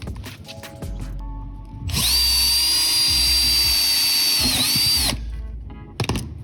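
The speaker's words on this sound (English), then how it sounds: "And also it's very easy to drill." A power drill whines at high speed for about three seconds, loud and close, drilling metal for a Volkswagen Super Beetle Baja bumper bar, with lighter handling sounds before and after.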